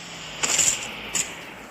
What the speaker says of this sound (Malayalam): എൻ്റെ വെടിക്കണ ശബ്ദം വരാൻ കേട്ടിരുന്നു.